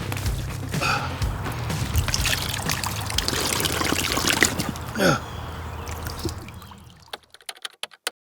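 Water trickling and pouring in a steady broadband wash for about seven seconds, with splashy surges and a brief gurgle near the middle, then it cuts off, leaving a few faint clicks.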